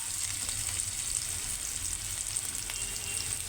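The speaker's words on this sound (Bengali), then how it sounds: "তো আলুটা ভাজা হবে," Potatoes frying in a pan give a steady, even hiss and sizzle that holds at one level throughout, close by and with no voices.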